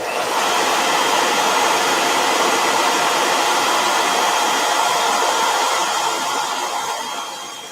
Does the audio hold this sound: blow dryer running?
yes